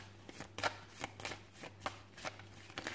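Tarot cards are shuffled in quick, soft riffling bursts, about seven brisk papery flutters in a steady rhythm, close and quiet.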